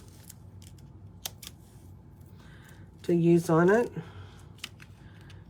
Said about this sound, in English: I'm just going to take and cut some off of here